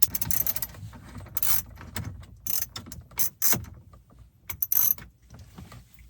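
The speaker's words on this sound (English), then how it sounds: "I'm grabbing my 10mm socket." A ratchet with a 10mm socket works to loosen fasteners holding the radio in a Toyota Prius dash, quick bursts of close clicking in short uneven runs with brief pauses between.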